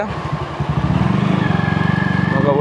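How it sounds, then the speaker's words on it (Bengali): A modified Royal Freedom 110cc motorcycle engine idles close up with a steady, throbbing putter that rises slightly partway through, heard alone without talk. "ইঞ্জিন ভালোই আছে শক আপটাও ঠিক আছে"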